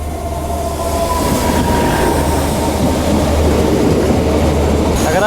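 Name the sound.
train arriving at Panjgam railway station, Kashmir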